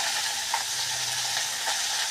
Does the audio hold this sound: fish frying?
yes